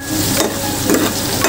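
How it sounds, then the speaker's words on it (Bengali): Yogurt paste and pointed gourd are stirred in a pan over a low flame, giving a steady, close sizzle with soft scraping strokes and no voices. "দেখো ভালো করে আমি মিক্স করে দিচ্ছি পটলের সাথে দিয়ে"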